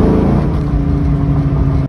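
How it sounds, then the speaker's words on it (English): Ford Mustang GT V8 with long tube headers revving, a steady loud low engine drone with a strong fundamental, held for nearly two seconds and cutting off abruptly at the end. "the long tubes definitely make the car sound just a tiny bit louder"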